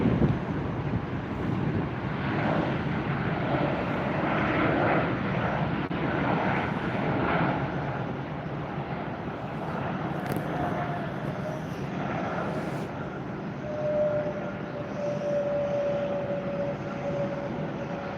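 A Frontier airliner taxis past at Tampa airport, its steady jet engine rumble and whine holding for the whole stretch, moderately close, with some wind noise over the microphone.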